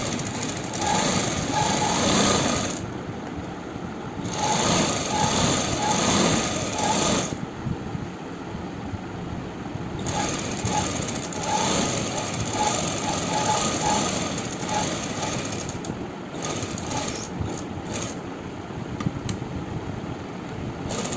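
A sewing machine stitches a neck band, its needle running in steady whirring bursts of a few seconds each, separated by short stops, close and continuous.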